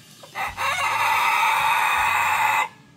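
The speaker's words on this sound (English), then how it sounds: "when the babies see that the chickens are eating it, they will all go and eat it" Chickens and baby chicks sound off close by while they feed, a loud sustained rooster-like crow or call holding steady for about two seconds after a couple of short clucks, with no talking.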